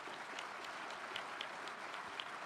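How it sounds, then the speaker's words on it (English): Outdoor crowd at a July 4 naturalization ceremony at Monticello applauds a judge, a fairly faint, distant patter of many hands with a few sharper claps popping out over a steady bed. "give the judge a great round of applause"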